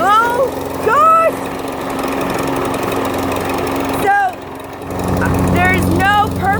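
An old lawn mower engine, smoking heavily and barely running while cutting a Bermuda grass lawn, drones steadily throughout, and voices talk over it.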